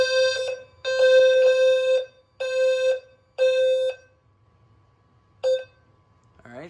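A System Sensor L-Series low-frequency smoke alarm sounds during an audible walk test in repeated loud electronic beeps of uneven length, with a gap before one final short tone, no voices over it.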